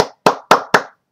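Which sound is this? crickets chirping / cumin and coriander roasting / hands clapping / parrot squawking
hands clapping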